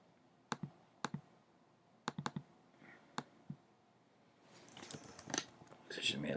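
Sharp, isolated mouse clicks at a computer during graphic design work, several single and paired clicks spaced across the first half, close and crisp, followed by softer shuffling handling noise.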